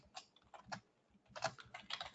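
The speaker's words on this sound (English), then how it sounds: "then I'm going to type out the message" Quick typing on a computer keyboard at close range, a dense patter of key clicks in two bursts separated by a short pause, with no speech.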